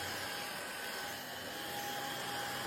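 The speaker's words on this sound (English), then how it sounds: "It's replaced my Henry Hoover." A lightweight cordless TikTok Shop stick vacuum cleaner runs with a steady, even whine and airy hiss throughout, alone without talk.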